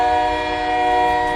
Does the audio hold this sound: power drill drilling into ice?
no